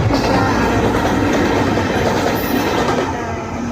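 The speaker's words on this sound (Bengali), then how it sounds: "ট্রেন ইঞ্জিন গেল" A train engine rolls past on a railway close by, a loud continuous rumble with rhythmic wheel clatter that eases slightly toward the end.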